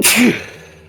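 A single sharp sneeze close by, a quick breathy burst that fades away.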